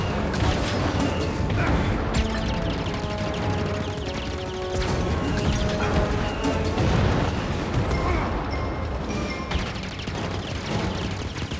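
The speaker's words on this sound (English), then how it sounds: "So that fires the cannon." A cannon fires repeatedly in the Star Wars Jedi: Fallen Order video game, with loud booming blasts and mechanical clanks over a dense, busy mix of combat noise that runs the whole time.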